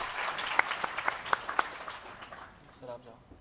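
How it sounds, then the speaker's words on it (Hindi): Audience applause at a felicitation ceremony for newly selected primary school teachers, a burst of scattered claps that fades out after about two seconds, with faint talk continuing underneath. "प्रेमचंद जी सांखला सर के लिए जोरदार तालियां हो जाएं।"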